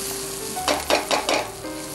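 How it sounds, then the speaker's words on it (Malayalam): An egg and jackfruit seed scramble sizzles in a pan while a spatula stirs it in four quick scraping strokes over a steady close frying hiss, with no talking. "ഇനി അത് നമ്മളിങ്ങനെ ഇളക്കുമ്പോൾ എല്ലാ ഭാഗത്തേക്കും ഒരുപോലെ യോജിച്ച് കിട്ടും"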